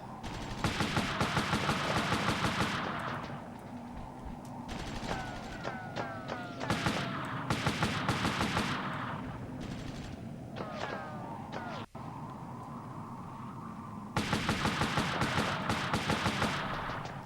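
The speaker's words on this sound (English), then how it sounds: "Oh, that's heavy fire." Heavy sustained gunfire and machine-gun bursts in the Army Men: Land, Sea, Air game on PlayStation, loud and continuous with dense rapid shots, brief lulls midway, then a renewed barrage near the end.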